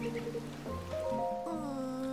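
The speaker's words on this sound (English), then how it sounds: "Sure is a rainy day here in Hyrule." Rain falls in Tears of the Kingdom, a soft, steady patter under sustained tonal game music during a brief moment with no talk.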